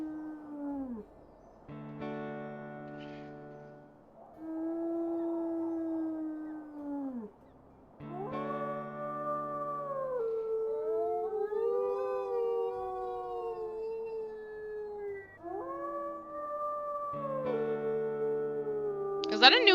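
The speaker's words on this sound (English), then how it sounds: "Is that a new howling animation right there?" A wolf howls in a video game, giving several long, rising and falling tonal howls, some overlapping into layered calls, loud and close with short pauses between them.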